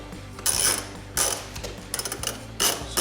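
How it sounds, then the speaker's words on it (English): 10mm socket and ratchet removing the mirror nuts on a 2013-2018 RAM 1500, several close, loud bursts of rapid ratchet clicking separated by short pauses, with no talking. "Using a 10mm socket and ratchet,"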